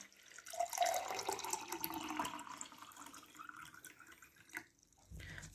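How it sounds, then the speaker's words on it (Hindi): Water running from a tap into a drinking glass, a close, steady trickle and splash that shifts as the glass fills, then stops with a few faint drips and a soft knock. "सबसे पहले तो आपने ग्लास ऑफ वाटर ले लेना, पानी भर लेते हैं इसके अंदर।"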